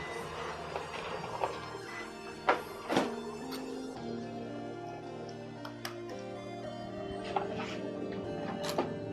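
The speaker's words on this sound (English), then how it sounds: "That's probing the bed." A full spectrum 3D printer probes its bed with a steady mechanical hum and motor whine, broken by a few sharp ticks and taps as the probe touches down at irregular intervals.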